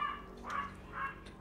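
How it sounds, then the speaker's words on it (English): A dog barks three times in the background of a quiet room, faint, distant woofs spaced evenly apart. "Sorry about the dog"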